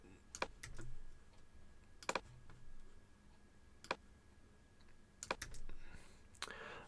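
Keys clack on a computer keyboard in short bursts of clicks and taps with pauses between, quiet and close, while database details are copied and pasted into a WordPress site migration.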